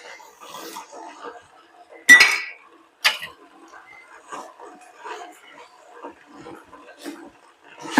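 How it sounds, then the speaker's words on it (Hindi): A spoon stirs a carrot barfi mixture with sugar, cashews, almonds, milk powder and desiccated coconut in a metal pan. There are steady scraping and two sharp clanks against the pan while someone talks throughout. "अब हम मिला लेते हैं अच्छे से, चलाते हुए, सब कुछ अच्छे से चलाते हुए मिला रहे हैं।"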